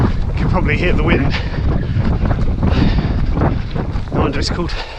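Strong wind buffets the microphone on a breezy, cold parkrun course at Windy Nook, a continuous loud roaring gust with a voice talking underneath.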